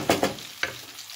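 Tomatoes and pepper paste cooking in a pan for pasta, with a few short scraping stirs and a soft sizzle close by, alone without talk.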